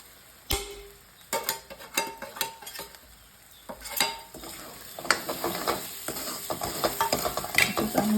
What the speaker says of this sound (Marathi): चांगला हलवून घ्यायचं गॅस बारीक करून